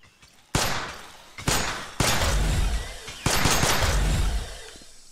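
Four loud, separate gunshots fired one at a time in the survival shooter XERA: Survival, each a sharp broadband crack with a booming tail, spaced about a second apart and ringing into the next shot.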